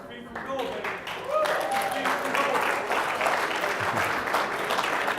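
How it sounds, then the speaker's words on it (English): An audience applauds a young entrepreneur at a Kannaway youth event, steady broadband clapping that swells after the first second and holds at a dense, even level, with a few voices mixed in. "Yes, clap for Camille."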